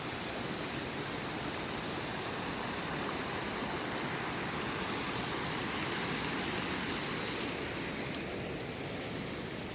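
A hidden waterfall in the San Juan Mountains backcountry roars as a steady, dense broadband rush, constant and fairly loud for the whole stretch, with no voices.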